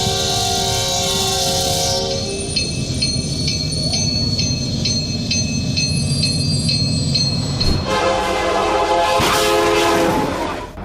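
A Union Pacific freight train about three-quarters of a mile long, traveling at 60 mph, approaches a road crossing. It blasts its horn in loud, sustained tones over a heavy, continuous rumble of wheels on rails, with squealing near the end.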